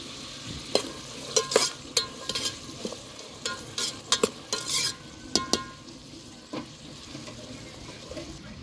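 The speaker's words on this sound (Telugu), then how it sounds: "ఒకసారి మొత్తం కలుపుకుందామండి." Vegetable rice being stirred in a pan, the spoon scraping the metal in irregular, close strokes over a soft sizzle, with a few louder scrapes bunched in the first half and no talking.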